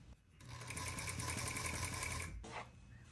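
A sewing machine stitches a reverse-stitch reinforcement at the ends of a tailored back welt pocket, running in a steady close whir for about two seconds, then a short pause and a brief second burst.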